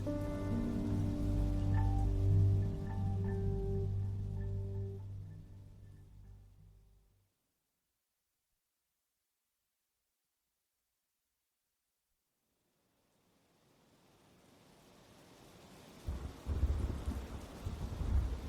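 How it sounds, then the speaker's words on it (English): Steady heavy rain and rumbling thunder fill the first seven seconds, cut to silence, then the storm fades back in with rain and deep, loud thunder rolls. "the thunder was so loud it made their bodies feel like they were vibrating"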